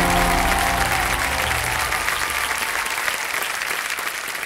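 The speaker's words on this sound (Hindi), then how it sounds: "जोरदार तालियां हो जाए" A studio audience on the KBC quiz show breaks into strong, continuous clapping while a musical sting fades out beneath it in the first seconds; the applause then carries on alone.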